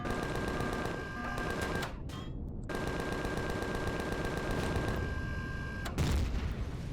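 Slower ion cannons on a ship in Empyrion Galactic Survival fire in rapid repeating bursts, a dense mechanical stutter that cuts off briefly and resumes, with a heavier boom near the end.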